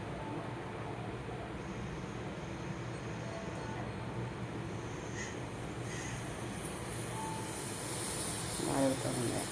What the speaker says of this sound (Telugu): చక్కగా టీలాగా మరుగుతుంది.